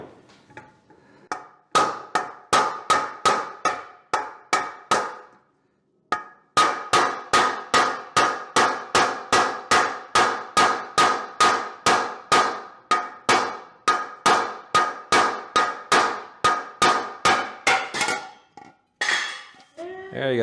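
Hammer repeatedly smacking a loose pneumatic piston out of a bar stool, a long run of sharp metallic clangs struck at a steady rhythm, with brief pauses, loud and close.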